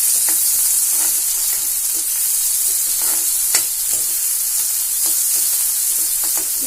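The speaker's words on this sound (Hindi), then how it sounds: "देखिए, अब हम इस पे प्याज डालेंगे।" Onions fry in a pan for spring rolls, a steady close hiss of sizzling oil with faint scraping and clicking as a spoon stirs them, and nobody talks.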